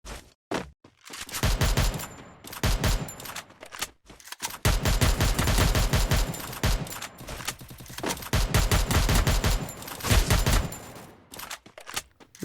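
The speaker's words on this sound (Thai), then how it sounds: "ยิงไปตั้งนาน ไม่ตายนะครับ" Rapid automatic gunfire from the Free Fire video game, loud bursts of fast repeated shots in several long strings broken by brief pauses.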